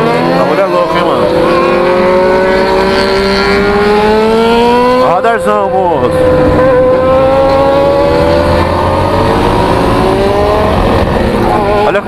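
A heavy BMW motorcycle engine revs loudly and close, its pitch climbing and sagging in long sweeps with a sharp rise and dip in the middle, while someone talks over it.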